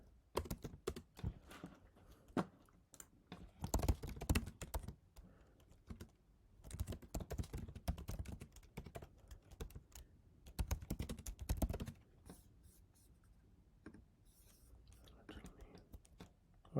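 Typing on a computer keyboard, with bursts of close key clicks separated by short pauses, faint and uneven in rhythm; no speech.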